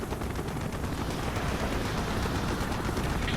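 Heavy anti-aircraft fire from a ship deck in Call of Duty: Black Ops, a continuous roar of rapid booming flak that stays dense and loud throughout, with no voices.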